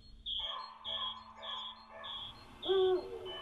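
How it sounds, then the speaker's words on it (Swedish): Birdsong in a Swedish forest, a repeated clear whistled phrase sung about five times in a steady rhythm at moderate distance, with a brief lower call near the end. "Vänta nu, hör Henning fågelsång."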